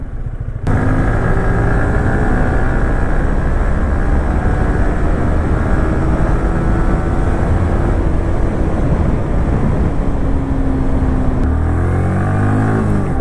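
A vehicle on launch control revs hard toward 12,000 RPM, a loud, sustained engine scream with rising and falling harmonic whine, shifting tone near the end before a new rising run.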